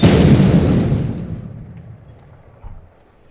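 A dynamite explosion in the video game Age of Spades hits as one loud, close boom that rumbles and fades over a few seconds, followed by a faint small thud.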